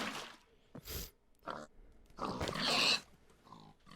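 Pigs in the video game Minecraft (Project Ozone 3 modpack) give several short, close grunts and snorts in separate bursts, with quiet gaps between them.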